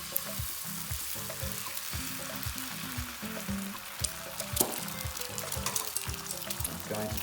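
An egg fries in a pan beside bacon, giving a steady crackling sizzle throughout with repeated soft scraping strokes and occasional sharper pops, heard close and continuous.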